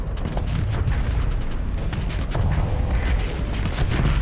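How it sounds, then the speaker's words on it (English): A siege cannon fires in the space combat game Starsector, heavy booming blasts and rumbling explosions layered densely and loudly with constant battle noise. "Go siege cannon."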